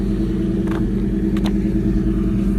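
A 2004 Mustang GT V8 idles with a deep, loud, steady rumble close by, and a couple of faint clanks sound over it. No one speaks.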